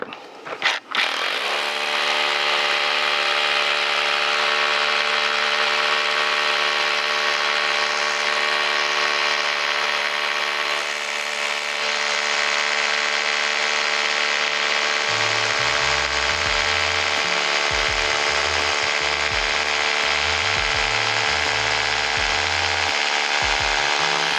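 A power drill bores holes into a window frame, a loud, continuous whining drone close by with a steady pitch, growing rougher with low juddering toward the end.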